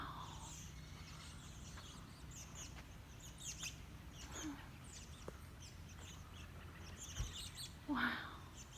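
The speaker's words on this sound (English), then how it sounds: "Look at all these birds, Kennedy" Birds outdoors chirp and tweet faintly in scattered short calls over a quiet background, with a louder call near the end.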